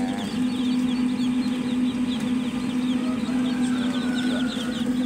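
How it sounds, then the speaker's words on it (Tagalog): Chickens and chicks on a Filipino farm raising Rhode Island Red fowl cluck and chirp steadily throughout, a dense flock close by with a constant low hum beneath and no talking. "napakaganda ng sisiw"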